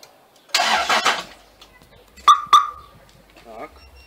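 A car with an automatic gearbox and a dead battery is cranked using an emergency power-bank jump starter. A loud whirring crank comes in two bursts, then two sharp beeps and a brief rising sound, with no speech.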